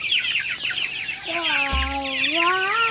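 Meat chickens cluck and chirp in a steady, busy chorus, and one clear rising-and-falling call stands out near the middle, with a soft thump under it.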